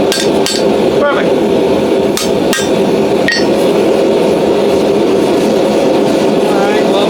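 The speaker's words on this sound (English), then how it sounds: "I'm going to keep trying with a small hammer" A small hammer strikes a seax blade on an anvil with a few sharp, ringing blows early on, then gives way to a loud steady background hum. A voice can be heard.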